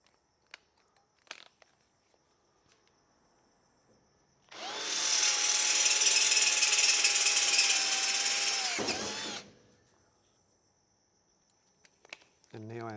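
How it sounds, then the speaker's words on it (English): A battery power drill fitted with a tapping drill bit bores through metal in a shed workshop, one steady whining burst of about five seconds that slows and cuts off, surrounded by quiet clicks and handling noises. "Change over to our tapping drill."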